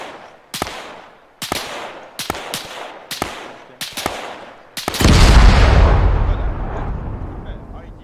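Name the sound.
IED being detonated, from the video game Arma 3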